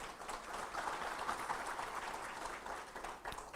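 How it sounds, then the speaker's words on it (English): Audience applause at a national fire services conference panel, steady and even clapping from a crowd that holds for a few seconds at a moderate, slightly distant level, with no speech over it. "Can we give him a round of applause,"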